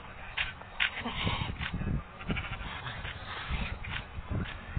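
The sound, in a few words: goats bleating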